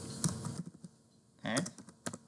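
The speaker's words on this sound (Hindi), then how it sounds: "गिट टाइप करना है आपको" Someone typing a git command on a computer keyboard: a few sparse, quiet key taps followed by a short cluster of clicks, close and faint, with no speech.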